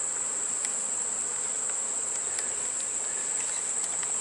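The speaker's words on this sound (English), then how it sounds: "All the ones that flew back are field bees." Field bees fly back and crowd into the hive entrance, making a continuous dense buzzing hum that stays steady and fairly loud throughout, with no voices.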